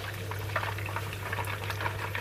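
Water at a steady boil in a pot on the stove, readied for steaming pan-fried chicken; a continuous close bubbling hiss with a low hum underneath and no talking.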